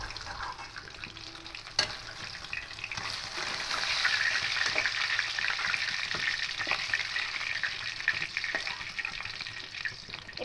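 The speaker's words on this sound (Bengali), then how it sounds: "একটু একটু হালকা বাদামি করে ভেজে নেব মাছগুলো" Pieces of catla fish fry steadily in hot oil, a continuous soft sizzle and crackle with occasional pops and utensil clicks, close by and without talk.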